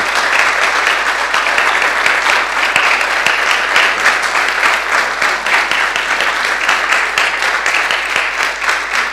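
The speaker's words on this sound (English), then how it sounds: "And I think for this he deserves an applause." A political event audience gives a sustained, loud round of applause, with dense steady clapping at an even level throughout and no break.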